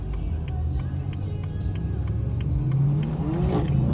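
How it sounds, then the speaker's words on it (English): BMW E92 M3 race car at wide open throttle on a track in Puerto Rico, a loud continuous engine drone heard from inside the car, rising in pitch toward the end over rushing wind noise. "Like I'm wide open throttle. I'm doing like 140"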